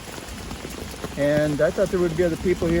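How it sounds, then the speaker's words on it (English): Steady rain patters on a taut tarp close by on a trail campsite, a dense crackling hiss beneath someone speaking, with thunder outside. "You can hear it raining, thundering outside."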